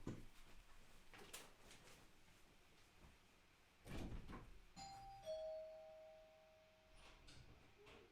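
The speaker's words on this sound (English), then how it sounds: "They were ringing the doorbell incessantly." A doorbell chimes a couple of times, with bright tones ringing out over quiet room noise, followed by a few soft clicks.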